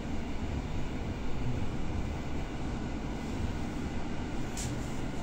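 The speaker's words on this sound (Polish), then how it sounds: "No i dobra, już pociąg ruszył i jadę do Tłuszcza." Inside a moving train leaving a station in Poland, a loud, steady rumble of wheels and carriage fills the whole stretch, with a brief brighter squeal near the end and no talking.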